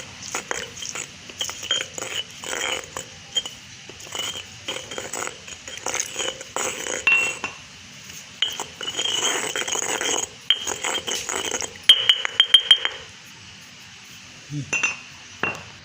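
Papaya leaves are pounded and ground in a stone mortar with a pestle, giving irregular bursts of hard clinking knocks and scraping, close up and moderately loud, with short pauses between runs of strokes.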